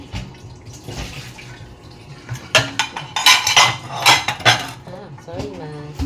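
Plates and utensils clatter and clink together in a home kitchen, the noise building into a dense, busy run of sharp knocks and rattles near the middle, with running water and a faint voice in the background.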